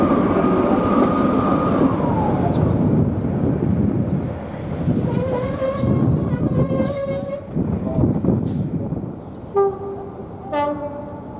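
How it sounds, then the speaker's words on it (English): A Class 33 diesel locomotive-hauled train rumbles into a station with a loud low roar, then brakes squeal in shrill tonal bursts as it slows to a stop. "The down train arrives in the form of Class 33 Crompton 33063 R.J. Mitchell."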